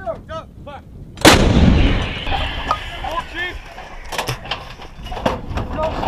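An Army M777 howitzer fired by 101st Airborne soldiers lets out one huge, close blast that rolls into a long echoing rumble, with shouted commands before it and scattered clanks and voices afterward.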